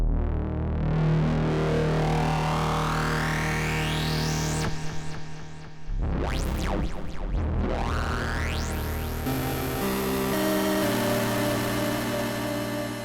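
A Roland Juno-X synthesizer plays with its drive distortion effect and chorus, loud gritty tones with sweeping pitch glides and a sudden cutoff midway before a brighter sustained passage.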